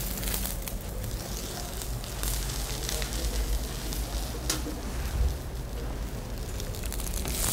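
Bread slices searing in a hot pan for bruschetta with guacamole; a loud, continuous sizzle and crackle with scattered pops and bursts, with no talk over it.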